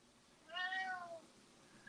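A single clear cat meow rises and falls in the middle of a quiet room, alone with no talk over it.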